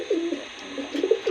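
Gola pigeons cooing nearby, two short soft low coos separated by a brief pause, heard alone against a faint background hum.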